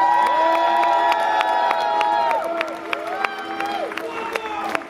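A festival crowd at the Interceltique de Lorient 2023 cheers and whoops loudly, with shouts and scattered applause rising over a sustained hum of voices, tapering slightly partway through.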